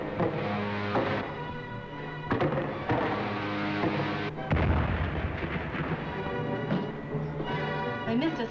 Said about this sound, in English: Missed us with the heat ray.